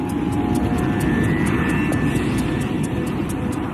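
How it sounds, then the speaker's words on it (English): An airliner's engine drones loudly and steadily while the plane glides, as the crew attempt a windmill restart of the right-hand jet engine. A faint, regular ticking repeats over the continuous roar, and no voices are heard. "he tries to restart the right-hand engine with a windmill start, using the plane's speed to spin up the engine blades"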